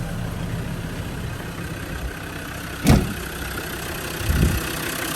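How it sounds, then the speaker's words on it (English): Warm Land Rover Defender 90 TD5 diesel with air conditioning idles steadily close by, a low continuous rumble broken by a sharp knock and a brief thump. "quick engine running video on this Defender 90 TD5 Tomb Raider"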